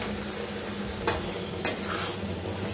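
A spoon scrapes and stirs a cauliflower curry masala with green chillies and a little water in a pan, quiet sizzling underneath and a few sharper clinks of the utensil against the pan.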